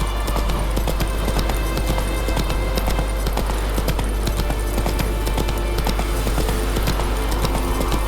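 Rapid, steady hoofbeats of a horse galloping in The Witcher 3 video game, a close, continuous clip-clop rhythm with no voices.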